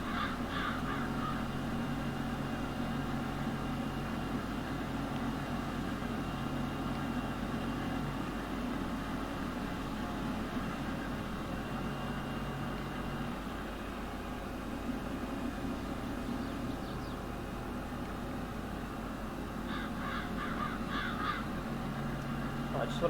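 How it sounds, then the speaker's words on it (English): Crows caw in short bursts over a steady, loud engine drone in Farming Simulator 22 as birds gather over a freshly harvested field, with the calls clustered at the start and near the end. "Look at all the birds gathering the minute that we finished harvesting."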